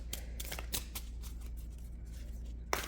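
Thick, oversized Lord of the Rings tarot cards are shuffled by hand in a series of quiet, crisp riffling snaps with short pauses between them.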